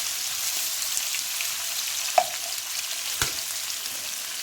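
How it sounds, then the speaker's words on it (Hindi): Chicken frying in oil on a medium flame in a home kitchen: a steady, close hiss and crackle of bubbling oil, broken by a couple of sharp spatter pops and a brief clink partway through. "दूसरी तरफ ये हमारा चिकन है जो कि फ्राई हो रहा है।"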